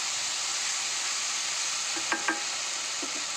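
Soft continuous sizzle of cinnamon, cloves and cardamom tempering in hot oil, with a couple of faint clinks partway through.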